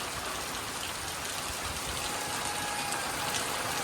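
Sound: rain falling on a fair

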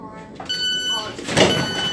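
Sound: Class 700 Thameslink train sliding door opening

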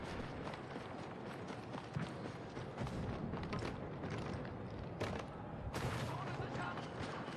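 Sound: gunfire in the video game Star Wars Battlefront II

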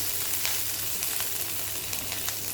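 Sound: green chilies frying in a little oil

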